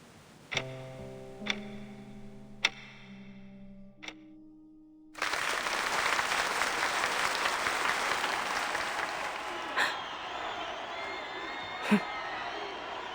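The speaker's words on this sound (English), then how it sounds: "This applause isn't for me." Loud audience applause bursts in and sustains with crowd noise, following a few sparse ticking clicks over a low held musical tone at a live London stage show.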